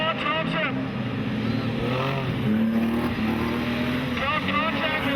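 Modified production race cars racing at Maryborough Speedway at night, engines droning and rising in pitch as they pass, heard steadily under a commentator's talk.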